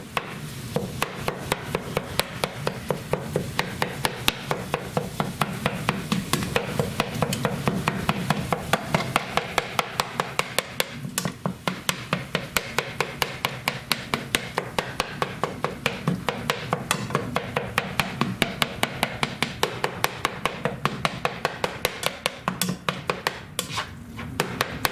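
Food being chopped with a knife on a cutting board in a home kitchen, a steady run of rapid, fairly loud knocks repeating throughout with little pause, no talking over it.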